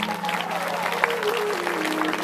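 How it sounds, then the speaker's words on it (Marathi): An audience claps together at a devotional Bhagavat katha gathering, a dense, continuous burst of applause at moderate volume with a faint tone sustained underneath. "एकदा दोघं भूतांसाठी टाळ्या वाजवा."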